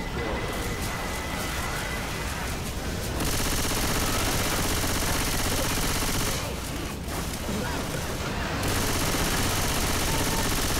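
Rapid Uzi fire in Left 4 Dead 2 rattles almost nonstop at close range, a dense crackling stream with brief lulls, with a voice faintly underneath.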